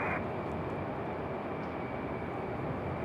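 A Boeing 757 airliner at Raleigh-Durham International Airport gives off a broad, steady jet roar, moderately distant and unbroken for the whole stretch, with no talking.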